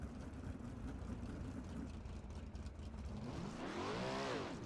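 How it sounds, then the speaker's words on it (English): A 410 sprint car does burnouts at Volusia, its engine a steady broadband roar that climbs into a loud rising rev near the end. "he's going to be doing some burnouts here"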